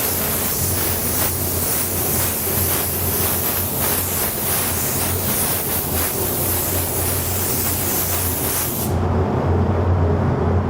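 Spray gun laying a light coat of Createx custom paint, a continuous loud airy hiss that runs steadily for about nine seconds before cutting off, leaving a low background rumble.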